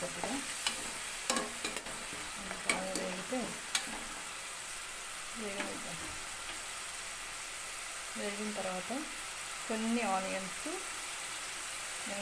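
Egg biryani masala fries and is stirred in a pot, giving a steady sizzle with intermittent scraping strokes of a spoon, close and moderately loud, with a faint voice in the background.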